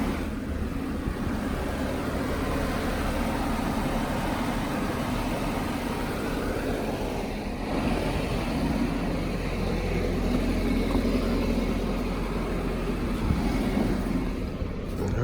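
A cold car engine idles at around 1400 RPM, a steady low, even drone that holds constant and close throughout with no talk over it.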